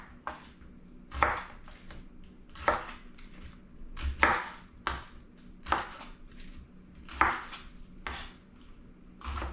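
A knife slices Brussels sprouts in half on a cutting board, giving about a dozen crisp, close chops in an uneven rhythm with soft handling noises between strokes.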